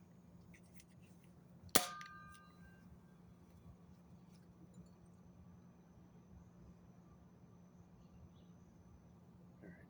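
A single sharp shot from a toy blaster bought cheaply online rings out once with a metallic clang and brief ringing tail, then only faint room noise follows.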